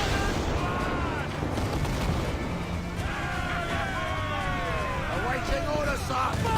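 Booming ship cannon fire in Assassin's Creed 4 Black Flag rumbles repeatedly amid battle noise and shouting voices, with continuous low thunder and scattered blasts throughout.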